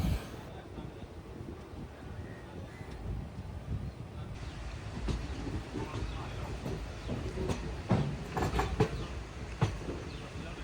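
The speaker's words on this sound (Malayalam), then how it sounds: "അങ്ങനെ ട്രെയിൻ എടുത്തിട്ടുണ്ട്" A passenger train pulls away from a station platform on the Shoranur to Nilambur line, heard from on board as a steady low rumble with wind and a few rail clicks building toward the end.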